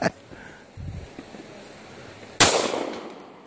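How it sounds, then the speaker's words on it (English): A gunshot fired to shoot a branch off a tree cracks out once, sharp and loud, after a quiet outdoor stretch, leaving a short decaying rumble behind it. "Shoot a branch off a tree."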